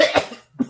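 A voice imitates someone coughing up spider webs: two short, harsh coughing bursts separated by a brief silence, close and loud, with no other sound.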